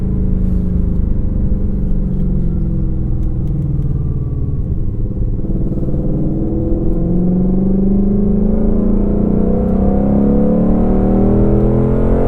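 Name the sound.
2021 Ford Mustang Shelby GT500 engine and exhaust in track mode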